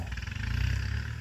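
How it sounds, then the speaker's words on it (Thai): A Kubota MU5702 tractor engine runs steadily nearby on a road-building job, a continuous low rumble with a pulsing throb throughout. "ใช้ รถไถ"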